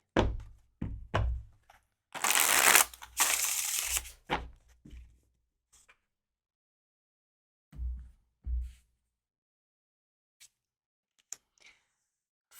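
Tarot cards being shuffled close up in a quiet room, one dense riffling burst followed by scattered soft thumps and taps as the deck is handled.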